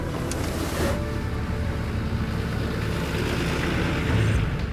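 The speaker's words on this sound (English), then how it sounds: "You're actually going to drive through the water." A 4WD pushes through tidal water across a Moreton Island beach track, giving a steady broadband wash of engine rumble and splashing water that stays constant and fairly loud throughout, with no talking.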